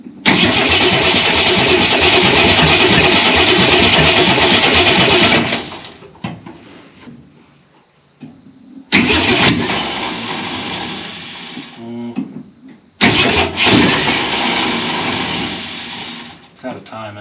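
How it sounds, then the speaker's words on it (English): A Ford Econoline travel wagon, left sitting for over fifteen years, cranks loudly on its starter in three long bursts separated by short pauses, the engine trying to catch and sounding rough, as if backfiring. "Come on, you naughty little starter."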